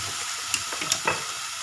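Round gourds (tinda) dropped into spiced oil that has been frying, with a steady sizzle and a few soft stirring scrapes and clicks, close and alone.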